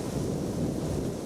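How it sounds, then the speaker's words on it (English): Strong wind roars across an exposed hilltop at dawn after a wet, windy night, a steady rushing buffet against the microphone without talk. "Oh, it's proper windy here."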